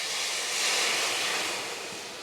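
Balsamic vinegar hits a hot pan and bursts into a loud, continuous hiss that rises briefly and then eases slightly.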